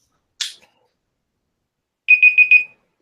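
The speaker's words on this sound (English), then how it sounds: "Someone's gonna swerve off the expressway listening to that beep." A loud electronic alarm sounds as four quick, shrill beeps in a tight run, then one more after a short gap. A single snap-like click comes earlier, and there is no talk.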